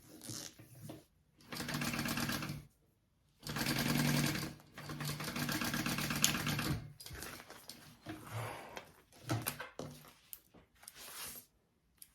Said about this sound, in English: we're going to sew that on first